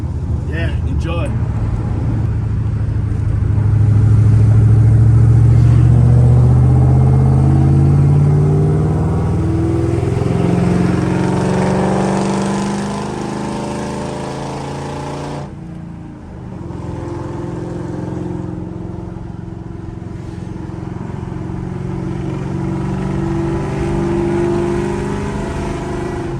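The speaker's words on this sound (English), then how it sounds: "we're gonna get some sound shots for you guys. The car finally running correctly." A Ford Mustang engine idles and revs, rising through a long climbing sweep and then settling into a steady rumble with smaller throttle blips, loud and close, with a voice speaking over it.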